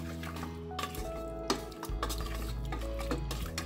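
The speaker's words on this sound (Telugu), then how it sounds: "వేసుకొని ఇదే మాదిరిగా మనం మిక్స్ చేసుకుంటూ ఫ్రై చేసుకోవాలి." Mutton stirred and fried with ginger garlic paste in a pan, with quiet scraping and light clinks of a spoon against the pan over a low steady sizzle.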